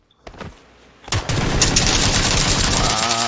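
Gunfire in the video game PUBG Lite: a couple of sharp shots, then a sustained rapid burst of automatic fire, loud and dense, with faint talk underneath.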